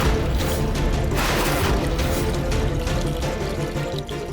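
Water pours steadily into a bucket that has a hole in it, a continuous loud gushing splash heard close by for several seconds without talk.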